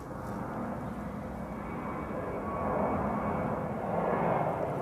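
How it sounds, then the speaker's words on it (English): An airplane takes off with a broad, steady engine roar that swells slightly toward the end, heard from a distance with no voices. "There goes airplane."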